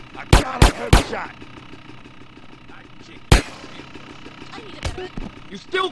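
Gunshots in GTA San Andreas, a quick volley of three sharp cracks followed by a couple of single shots, over game engine rumble and background noise.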